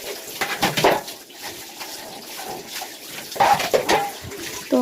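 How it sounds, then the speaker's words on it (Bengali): Plates are washed under running water in a home kitchen, with bursts of splashing and clattering that come and go, loudest near the start and again toward the end. "এবার আমি থালাগুলো ধুয়ে নিচ্ছি।"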